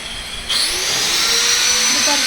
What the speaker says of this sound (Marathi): लिफ्ट मशीनने टाईल्सवरती घ्यायचं काम चालू आहे